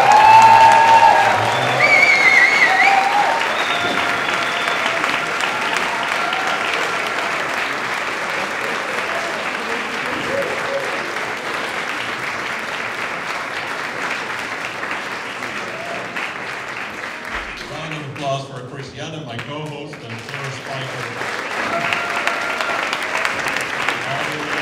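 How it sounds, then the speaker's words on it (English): Sustained audience applause at a public pitch event in Leiden, steady and full from the start, fading slightly midway, with a brief voice breaking through near the end before the clapping swells again. "I would also like to ask for a very strong round of applause"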